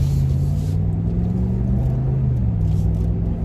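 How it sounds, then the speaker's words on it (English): A Ram 1500 pickup truck drives through a U-turn at a highway turnaround, giving a steady, close engine rumble with a low drone that shifts slightly in pitch as the truck turns, and no talking. "I'm about to make a U-turn, guys."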